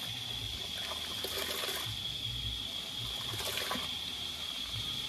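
Uncooked rice being washed in a pot of water for a large Jamaican funeral cook-out, a steady trickling, sloshing wash of water with a constant high hiss behind it, no voices.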